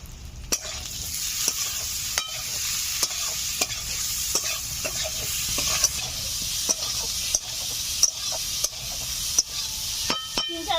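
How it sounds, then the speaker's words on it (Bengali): Spices and green chili paste are stirred in a frying pan for a rohu fish curry, an up-close sizzle punctuated by repeated scraping strokes of a spatula at an uneven rhythm. "তিন চার মিনিট নেড়ে চেড়ে নিলাম।"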